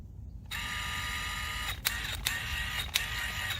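A bolt on a Rock Krawler adjustable sway bar end link is tightened on a Jeep, making a steady whirring tool drone broken by three short, sharp clicks, with nobody talking.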